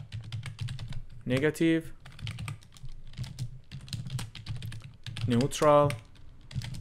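Keyboard typing on a computer, a steady patter of key clicks running under a man's speech throughout, with the voice rising over the taps in two bursts.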